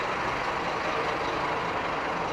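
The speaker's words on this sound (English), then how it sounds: "Got a noisy bus here." A noisy bus idling or pulling away at a suburban train station, a steady loud engine roar with broadband rumble and no breaks.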